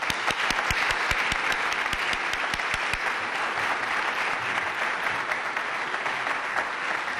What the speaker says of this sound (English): Please join me in welcoming Joby Warrick.